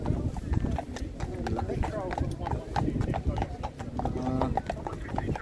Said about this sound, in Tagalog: Police horse.